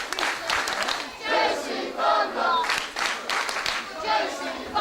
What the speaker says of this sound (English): listen to the crowd getting behind JC